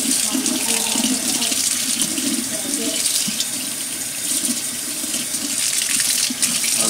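A tap runs steadily into a sink for the whole stretch, a continuous broadband splashing hiss at close range, with a voice faintly audible over the flow.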